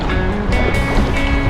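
Sea waves sloshing around kayaks along the rocky Tribunj coast in Croatia, a loud, close, continuous wash of water with irregular splashes and surges, no voices.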